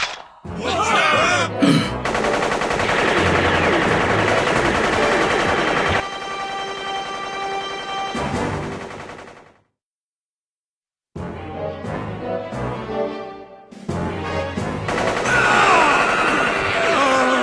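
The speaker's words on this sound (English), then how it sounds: "Nen bullets!" Rapid bursts of anime gunfire, Nen bullets fired as a loud sustained barrage with crashes and shouting mixed in, breaking into a brief dead silence before another volley resumes.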